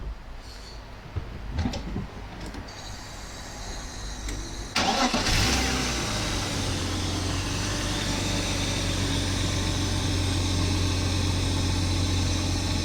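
A BMW E36 car has a few clicks and clunks before its engine cranks and catches, then settles into a steady idle that runs on, close by, with no talk.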